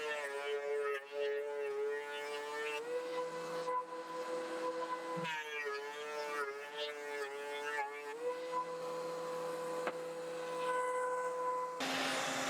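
A wood planer drones with a steady tonal whine as boards make several passes to reach equal thickness, the pitch dipping and recovering as each board feeds through, loud and close.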